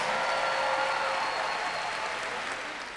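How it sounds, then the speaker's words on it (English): An audience applauds doctoral graduates at a university commencement ceremony, a steady wash of clapping that fades slightly toward the end. "please give a round of applause to our 2017 doctoral graduates"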